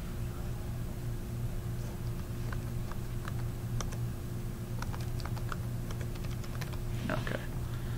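Computer keyboard keys tapped in short bursts while entering a key code for CMax software setup, crisp close clicks over a steady low background hum, with no talking.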